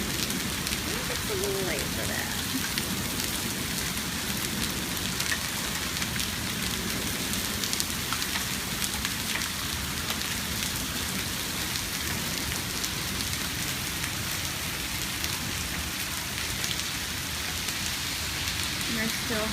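Hail falling steadily outdoors near a garage and yard, a dense continuous patter filling the whole stretch, with faint voices briefly audible underneath early on.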